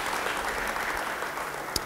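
Church congregation clapping in response to a pastor's sermon, a steady dense patter of many hands filling the space, with one sharper clap near the end.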